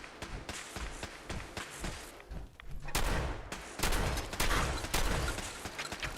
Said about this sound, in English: That's a Gauss rifle, I think.